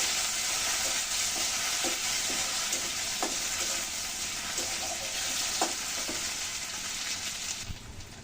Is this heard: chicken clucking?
no